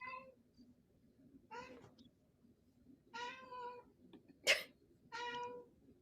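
A house cat meows several times in short separate calls, fairly close and clear, between stretches of quiet room sound, with faint talk nearby.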